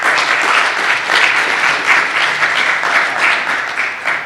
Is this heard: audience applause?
yes